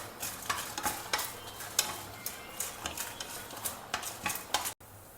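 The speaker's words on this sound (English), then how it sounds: "heat just a teaspoon of oil and 2 teaspoons of urad dal, 5 dry red chilies I have taken." Urad dal and five dry red chilies roasting in a teaspoon of oil, with a soft crackle and repeated stirring scrapes through the clip. Nobody speaks, and the sound cuts off abruptly near the end.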